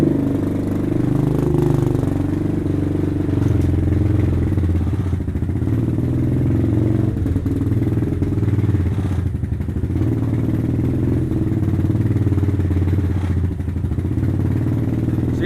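A Venom Thunder 125 dirt bike engine runs at a steady idle the whole time, with a close, constant low rumble and light mechanical clatter and no speech.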